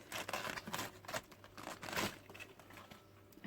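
Cabbage leaves are peeled apart by hand, making faint, close crinkling and tearing in short irregular bursts, without talk.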